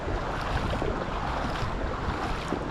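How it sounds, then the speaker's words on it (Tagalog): Large sea waves churn near a reef, a loud, continuous roar of surf mixed with wind buffeting the microphone, no voices heard. "Dito medyo malalaki na yung alon"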